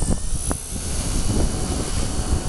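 A Blade V120D05 RC helicopter whirs steadily as it flies and comes in to land, its rotor and motor drone sounding close and continuous with no talk.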